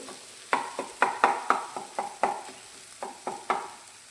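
Gram flour bhurji being broken into pieces in a frying pan, a quick series of about a dozen sharp, close scraping taps from a spatula over a faint sizzle.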